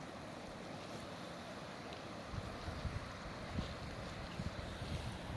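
A steady rushing of water with low rumbling turbulence from the Salor River, continuous and fairly faint, with no voices.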